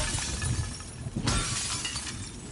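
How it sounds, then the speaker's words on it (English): Glass shatters in the video game The Last of Us Part 2, a sharp crash with bright scattering tinkles over a dense, noisy game background. "Break all the glass."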